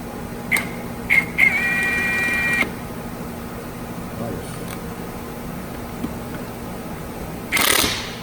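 An Ingersoll Rand W7152 1/2-inch impact wrench fires in three short bursts, the last held for about a second, then falls quiet apart from low shop noise and a brief rattle at the end.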